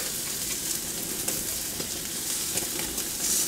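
Steak sizzling in a pan, a loud continuous fry with crackling pops, heard up close and without voices.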